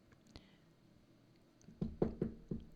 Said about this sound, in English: A knock came to the cabin door.